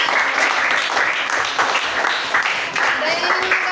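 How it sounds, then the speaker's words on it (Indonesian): A class or workshop audience claps for a presenting group, giving a steady, full round of applause that lasts throughout, with a few voices faintly audible beneath it. "tepuk tangan buat kelompok 3"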